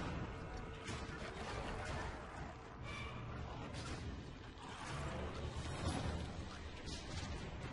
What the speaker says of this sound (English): Pulling that lever lowered that gate down in front of that chain